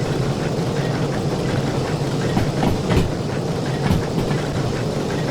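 A steam shunter locomotive rolls along steadily in the Derail Valley train simulator, a continuous rumbling run with rhythmic clatter and a few louder knocks, no talk.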